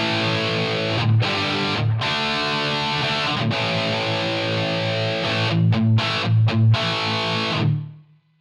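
Electric guitar played through a Helix RevGen purple amp model and captured with an SM57 microphone, with a touch of reverb, gives loud, distorted sustained chords with short choppy breaks and a final chord that cuts off into silence.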